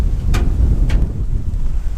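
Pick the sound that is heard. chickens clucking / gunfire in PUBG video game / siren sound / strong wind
strong wind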